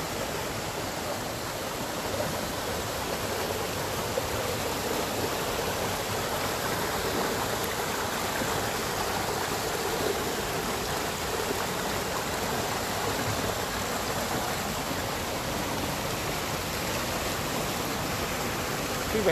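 Steady broadband rush of a river flowing over stones, continuous and fairly close, with no breaks across the whole stretch.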